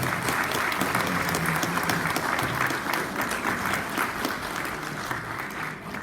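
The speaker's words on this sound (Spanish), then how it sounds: "recibamos con un fuerte aplauso" A large audience at a law seminar on corruption and business claps steadily for several seconds, a dense, sustained round of applause that fades slightly toward the end.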